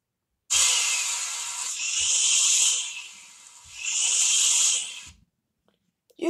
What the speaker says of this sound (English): That's the sound a blender makes.